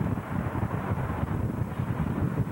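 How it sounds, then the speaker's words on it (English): Strong wind blowing at the foot of the Verrazano bridge in Staten Island, heard as a steady, close, low rumbling buffet against the microphone with no pauses. "here I am at the foot of the Verrazano, and the wind is blowing like crazy"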